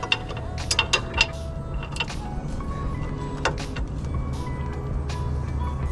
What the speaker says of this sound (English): I'm gonna go ahead and tighten those with an actual wrench just to make sure we got them the way we need them